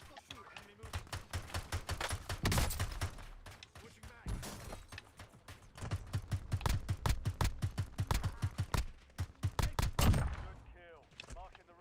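Rapid bursts of video game gunfire crackle almost without pause, with dense automatic volleys and scattered single shots at close range, running under an excited player's voice.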